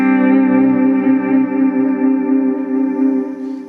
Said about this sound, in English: You can hear the modulation on the delay.